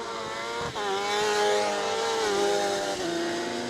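Rallycross race cars at Lydden Hill brake and turn into the hairpin, engines revving in rising and falling harmonic whines with gear changes, loud and close, several cars overlapping with no voices.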